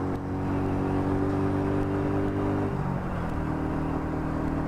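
A Royal Enfield Meteor 350 motorcycle accelerates onto a dual carriageway, its steady engine drone and road rumble continuous and close, the pitch shifting down partway through as it changes gear.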